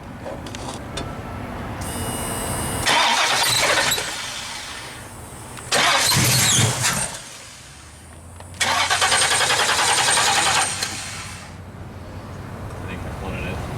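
A hot rod's car engine cranks and fires in several attempts, each start bursting loudly over a steady pump-like hum, with people talking nearby between tries.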